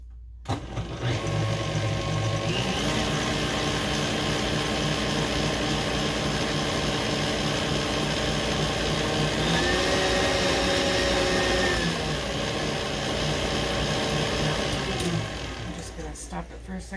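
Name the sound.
electric mixer whisking butter and chocolate cake batter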